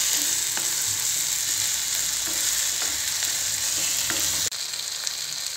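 Onions and tomatoes sauté in a pan for a jackfruit seed pepper fry, giving a steady, even sizzle and frying hiss with occasional faint stirring scrapes.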